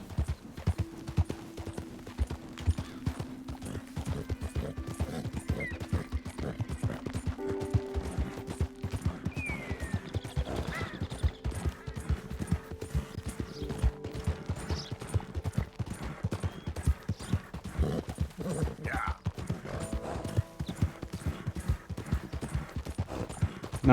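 Horse hooves trot in Red Dead Redemption 2, a steady, even clip-clop that continues throughout, with faint game ambience and occasional distant sounds behind it.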